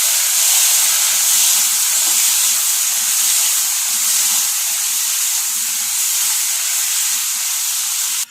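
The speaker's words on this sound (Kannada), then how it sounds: "ಟೊಮೆಟೊನ ಹಾಕಿದ್ದೀವಿ ಚೆನ್ನಾಗಿ ಫ್ರೈ ಮಾಡ್ಕೊಳ್ತೀವಿ" Tomatoes fry in a hot pan with a steady, loud sizzle and hiss that runs unbroken for several seconds, cooked alongside a liver fry.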